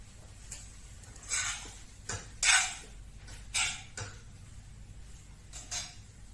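A spoon clinks and scrapes against a pot while aviyal, a mixed vegetable curry, is stirred, giving several separate knocks and scrapes over quiet background.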